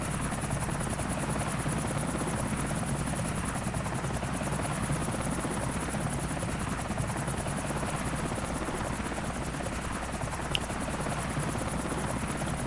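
A helicopter's rotor in Grand Theft Auto IV drones steadily and evenly at close range, a continuous thumping hum with no voices.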